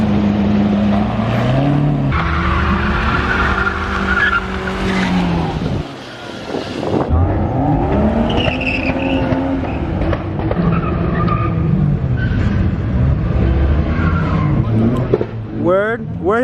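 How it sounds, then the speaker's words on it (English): Car engines roar and tires squeal as vehicles pull in, with people talking excitedly over the loud, continuous motor noise. "We're like filming these cars pulling in."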